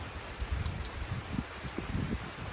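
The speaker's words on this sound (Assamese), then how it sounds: "আমাৰ ইয়াত বহুত বৰষুণ দিছে" Heavy rain falls as a continuous wash of noise with low rumbling gusts, steady and fairly close over the short stretch.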